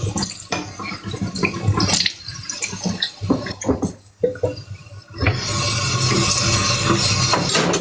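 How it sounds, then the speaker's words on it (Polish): Water runs from a tap with clinks and knocks of dishes, the flow steadying into a constant rush in the latter part. "Ja na razie muszę naczynia umyć."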